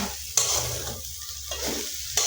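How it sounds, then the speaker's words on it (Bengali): Chow mein frying on a gas stove, a steady close sizzle with scraping stirring strokes throughout and a few louder bursts where the pan is worked harder. "এবারে কিছুক্ষণ গ্যাসটা চালু করে দিয়ে মানে নাড়তে নাড়তে যখন একটু লাল লাল হয়ে আসবে তখন নামিয়ে নেবে গ্যাস"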